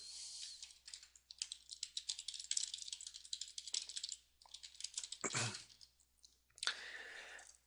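Rapid clicking keystrokes of code being typed on a computer keyboard, quick bursts with short pauses and a few louder thumps, close and quiet with no talking.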